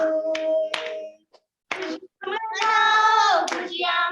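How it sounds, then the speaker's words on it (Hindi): Hands clap in a couple of sharp, close claps along to a Hindi worship song, followed by loud sustained tonal singing or music. "ताली बजाएंगे।"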